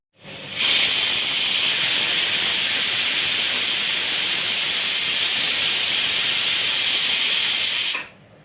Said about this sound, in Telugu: కుక్కర్ మూత పెట్టుకొని ఒక 3 విజిల్స్ వచ్చిందాక ఉడికించుకుందాం